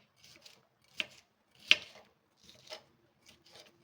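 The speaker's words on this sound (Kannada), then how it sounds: "ಉದ್ದುದ್ದಕ್ಕೆ ಈ ಥರ ಕಟ್ ಮಾಡ್ಕೊಳ್ಳಿ" A knife slices capsicum lengthwise on a board, making a handful of separate, crisp, irregular cuts, two sharper and louder than the rest, with no talk.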